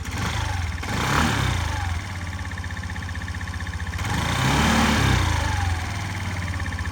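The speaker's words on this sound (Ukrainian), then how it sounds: "Ідеально працює двигун, взагалі без питань" A Suzuki Address V125 G scooter engine runs steadily close by, a low even idle with a slight rise in revs partway through.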